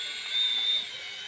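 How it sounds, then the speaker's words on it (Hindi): A small FPV RC drone's propellers spin up with a thin, high-pitched whine that swells briefly and then eases back to a steady hum. No voices are present. "ये है अपना FPV ड्रोन, बोले तो RC ड्रोन।"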